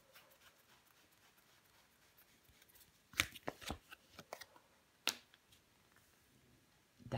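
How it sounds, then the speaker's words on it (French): Tarot cards are handled and laid down on a table, soft rustling followed by a few crisp slaps and flicks of cards being placed, quiet and close with long near-silent gaps. "On va recouvrir des cartes."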